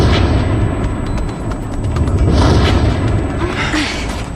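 A tower at a nuclear plant explodes in a cartoon, heard as a sustained, loud, rumbling blast with heavy low roar and crackling debris continuing for several seconds without speech.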